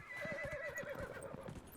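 Horse neighing in Dragon Age Inquisition: a single wavering, high whinny over about a second and a half, sounding close, with soft clip-clop hoofbeats pulsing underneath.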